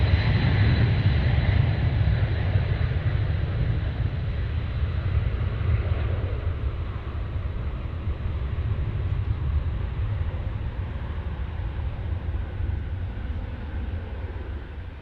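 A heavy MD-11 jet roars at DFW Airport as a steady, loud broadband rumble that slowly fades slightly over the stretch, with no voices.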